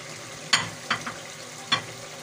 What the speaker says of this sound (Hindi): अब हम इसे भूनेंगे एक दफ़ा और भूनेंगे अच्छी तरह से